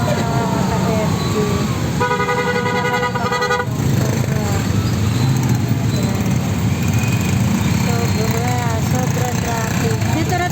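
Dense, heavy road traffic with steady engine rumble and a car horn honking in a rapid series of toots partway through, while people talk over the din.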